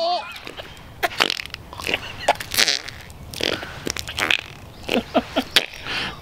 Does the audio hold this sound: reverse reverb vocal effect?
no